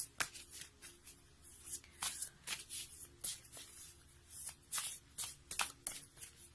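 Tarot cards are shuffled by hand in a quiet room, a string of crisp riffling bursts at an irregular rhythm, close and soft.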